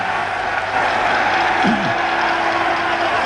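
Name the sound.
crowd noise as Ireland win the Triple Crown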